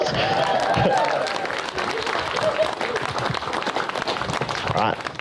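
Wedding guests on a dancefloor give a round of applause, a dense burst of clapping mixed with cheers and chatter that holds steady before tapering slightly.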